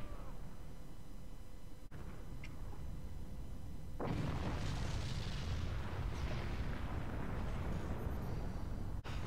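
An atom cannon shot in modded Forts hits partway through, a broad rumbling explosion that swells abruptly and lingers as a loud roar after faint earlier sounds.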